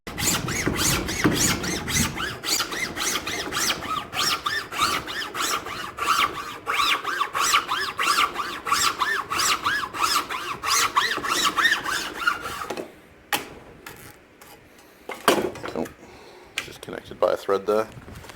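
A saw cuts through a homemade micarta knife handle blank in a steady rasping rhythm of close, repeated strokes, then stops and leaves a few scattered scrapes and knocks.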